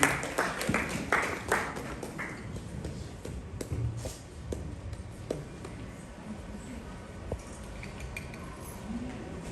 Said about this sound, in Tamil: அவரை மனமார்ந்த கைத்தட்டலுடன் மேடைக்கு வரவேற்போம்